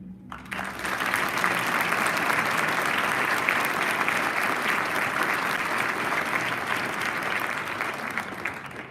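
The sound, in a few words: applause for student speakers at a graduation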